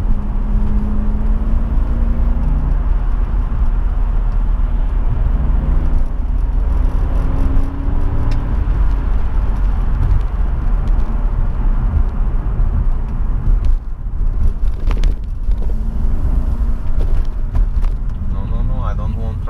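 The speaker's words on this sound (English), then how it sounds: "Shifted itself to the second gear, and it was earlier because of a lot of wheel spin." Inside a BMW 745i E65 during aggressive city driving, the engine drones and rises as the car accelerates with wheel spin and shifts gear, a steady loud cabin rumble with road noise throughout.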